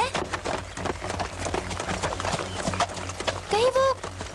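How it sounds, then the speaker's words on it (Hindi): A horse with a rider gallops in an animated Cinderella cartoon episode, its hooves clip-clopping in a quick rhythm beneath music and voices, with a short whinny near the end. "वो घोड़े पर बैठा हुआ लड़का हुबहू चार्ल्स जैसा है।"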